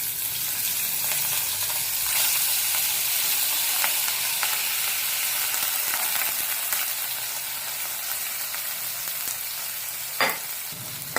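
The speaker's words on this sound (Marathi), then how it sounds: "हे आपलं लवंग आणि विलायची फ्राय झालेले आहेत त्यात आपण तांदूळ टाकून घेऊया" Rice frying in ghee with cloves and cardamom, a continuous close hiss of sizzling with faint scraping from stirring and a sharp clink near the end.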